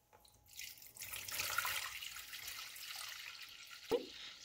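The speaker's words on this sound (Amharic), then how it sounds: "ውሃውን እንደዚህ አንጣልለዋለሁ።" Water is poured off fermenting teff and barley injera batter in a faint, steady trickle that builds and then runs on evenly, ending with a brief sharper splash or drip near the end.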